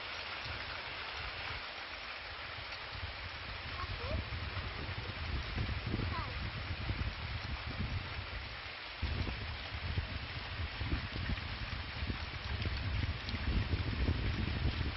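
Heavy unseasonal downpour in Lohardaga, arriving with hailstorms over wheat fields, a steady broadband rain hiss with low rumbling underneath, constant and fairly loud for the whole stretch.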